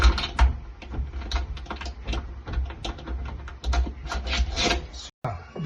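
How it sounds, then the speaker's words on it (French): A 12 mm socket on a small wrench unscrews a fitting during a kitchen mixer tap replacement, giving a steady close-up scraping and ratcheting rasp with irregular clicks that run without a break for several seconds. "Donc c'est la douille de 12. Donc comme vous voyez avec la petite clé, je la rentre. Et j'ai juste à dévisser."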